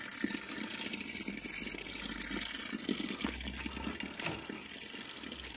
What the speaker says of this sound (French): vous avez une petite fontaine ici